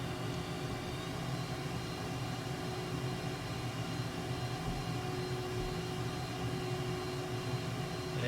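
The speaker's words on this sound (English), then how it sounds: "And this is actually very smooth taxiing." A MiG-29 jet taxiing in Microsoft Flight Simulator gives a steady, continuous engine hum and whine, even and unbroken throughout with no talk.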